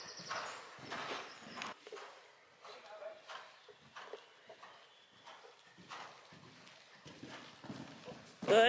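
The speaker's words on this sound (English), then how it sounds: "Keep that canter, let the fence come to you." Hooves beat in a rhythmic canter as a horse moves around a show jumping course, the clip-clop fairly close and moderately loud, with a rider's voice speaking over it and a brief whinny-like sound near the end.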